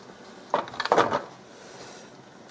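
Metal pressure cooker lid clattering onto the pot while meat sauce and squash cook, a few sharp clanks bunched close together, then quiet kitchen room tone.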